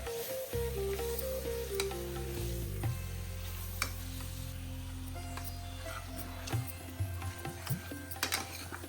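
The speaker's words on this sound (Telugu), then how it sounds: "మంచిగా వాష్ చేసుకున్న మటన్ని అందులో వేసుకొని మొత్తము అన్నీ కలిసేటట్టు బునాయించుకోవాలి" Washed mutton sizzles steadily in a hot pan for a fenugreek mutton curry, with occasional scraping and stirring clatter from mixing, close and continuous with no voices.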